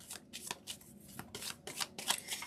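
Angels of Abundance oracle cards shuffled by hand in a steady run of crisp riffling bursts, close and fairly quiet, with no voice over them.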